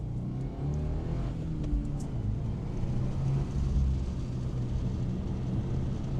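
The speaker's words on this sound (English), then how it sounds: "Light throttle, pulling out and go." A Subaru WRX tS pulls away uphill on light throttle, its engine a steady low rumble heard from inside the car, with no sharp revving.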